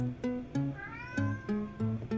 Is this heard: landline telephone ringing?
no